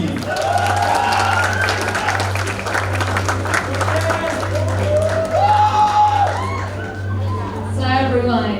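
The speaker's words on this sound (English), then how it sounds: "Please give applause to Mr." Applause from the audience at a youth summit in Istanbul, with whoops and shouted cheers rising over a steady roar of clapping, a constant low hum underneath and voices calling out near the end.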